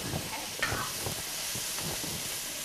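Sauced noodles are tossed in a hot skillet at a Japanese festival food stall, giving a loud, continuous sizzle broken by rhythmic scraping and stirring strokes over a couple of seconds.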